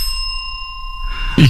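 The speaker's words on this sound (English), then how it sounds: "No, I want the long bell on that one." A sustained bell tone rings steadily for over a second as a studio sound effect, ending with a brief louder burst of noise.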